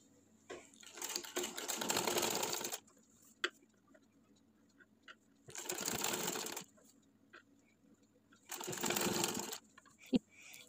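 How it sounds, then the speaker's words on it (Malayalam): Sewing machine stitching fabric for a kids' summer top: three bursts of fast, whirring stitching, each lasting one to two seconds, separated by quiet pauses with faint clicks, close and moderately loud. "പതുക്കെ തയ്ക്കണം."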